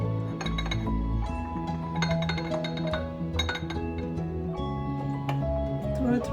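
Dry full-fat milk powder is stirred little by little into heavy whipping cream, with a utensil clinking repeatedly against the bowl in light, close taps as someone talks over the mixing.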